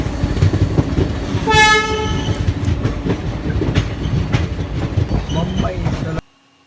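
The Udyan Express passenger train leaves Solapur station, rolling along with steady rumbling and clattering wheels, a brief horn toot sounding early, before the noise cuts off abruptly at the end.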